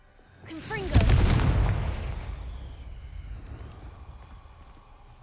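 A Confringo fire spell explodes in the video game Hogwarts Legacy: a sharp, loud burst that rumbles and decays over several seconds, with faint game sounds beneath and a brief effect just before the blast.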